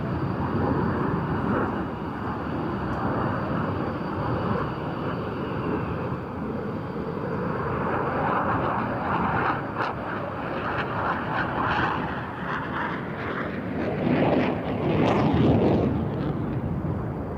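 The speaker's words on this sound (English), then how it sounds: "There'll be three versions of the Rafale: the single-seat C, this one the two-seat B for the French Air Force" Dassault Rafale two-seat B fighter jet with M88 engines at the Farnborough air show, a loud continuous jet roar that rises and falls in pitch as the aircraft passes, heard without speech.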